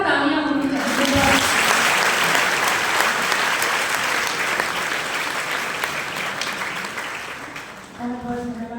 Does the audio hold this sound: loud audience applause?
yes